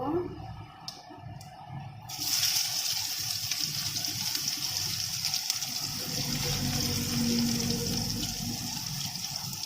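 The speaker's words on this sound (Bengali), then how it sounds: "তেলটা গরম হয়ে গেছে। এবার পেঁয়াজ দেব।" Onions tipped into hot oil for a rohu fish and potato curry burst into a loud, sudden sizzle that settles into a steady, close frying hiss.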